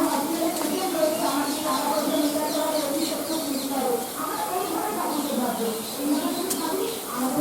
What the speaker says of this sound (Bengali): কিছু পাখি কলরব করছে